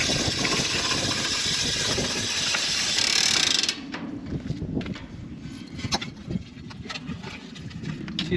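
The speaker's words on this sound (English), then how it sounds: "So there's a simple winch here." A simple hand winch on farm machinery being cranked, giving a steady ratcheting, clicking mechanical rattle up close, louder and denser for the first few seconds and then thinning into sparser clicks.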